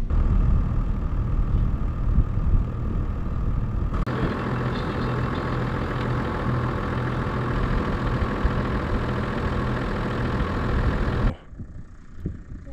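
A 4x4 with deflated tires driving along a beach on a desert island, its engine droning steadily and loud throughout, then cutting off abruptly near the end.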